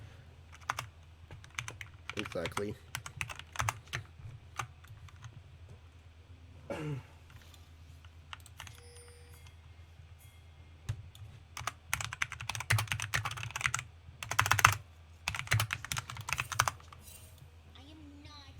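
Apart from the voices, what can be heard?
typing on a computer keyboard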